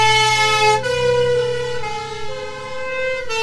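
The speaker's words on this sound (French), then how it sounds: "Ah, les pompiers avec le HY." A vintage Citroën HY fire engine passes, sounding a loud, sustained two-tone horn that switches pitch a couple of times, close and dominant throughout.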